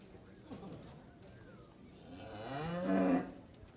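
Cattle lowing at a winter farm show in South Dakota, a drawn-out moo swelling near the end amid hall ambience, with announcer-style talk running underneath.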